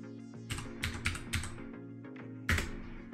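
Keys on a ZX Spectrum keyboard are pressed in a handful of separate, soft clicks, four in quick succession and then one more after a pause, close by and with no talking.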